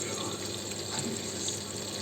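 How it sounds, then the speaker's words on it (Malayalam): Small decorative water fountain with a low drop, trickling steadily in a continuous close splashing wash with no breaks. "അധികം ഹൈറ്റ് ഇല്ലാത്തതല്ലേ വെള്ളച്ചാട്ടത്തിൻ്റെ സൗണ്ട് ഇത്തിരി കുറവാണ്"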